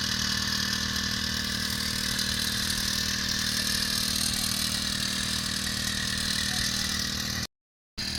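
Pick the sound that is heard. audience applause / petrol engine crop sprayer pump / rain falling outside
petrol engine crop sprayer pump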